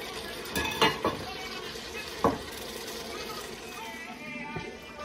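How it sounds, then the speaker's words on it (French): Tomato and mushroom sauce simmering in a pot, stirred with a utensil that knocks against the pot a few times, over a steady low bubbling hiss. "Là, je vais laisser mijoter pour que les tomates et les champignons puissent très bien se mélanger."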